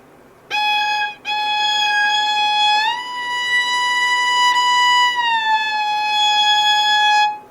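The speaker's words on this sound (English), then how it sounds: "She's actually glissing, and we hear a little siren sound." A sustained bowed violin note glissandos smoothly up and down in pitch, rising and falling like a siren wail, clear and close with no talking, during practice of Vieuxtemps Violin Concerto No. 2.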